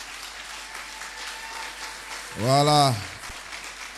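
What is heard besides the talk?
congregation applauding for the pastor in church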